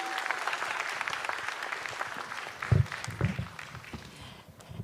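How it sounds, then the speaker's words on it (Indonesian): An audience at a stand-up comedy competition applauds comedian Dokter Saga, a heart doctor, with a sustained burst of clapping and a few louder thumps midway, fading slightly toward the end. "Sekali lagi tepuk tangan untuk Dokter Saga."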